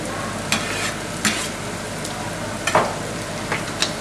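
Minced meat with garlic frying in a pan for a bolognese sauce, a constant close sizzle broken by several sharp scrapes and knocks of a spoon stirring.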